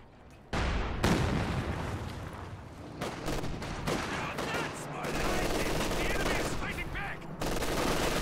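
Gunfire in a World War II tank battle video game, with dense bursts and sharp loud reports, machine-gun rattle and booms overlapping continuously, while a commentator talks over it.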